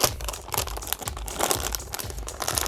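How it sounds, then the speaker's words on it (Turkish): A plastic anti-static bag around a Radeon RX 6600 graphics card is torn open: continuous loud crinkling and ripping close up, with bursts of tearing throughout and no talk. "Şöyle poşetini yırtalım."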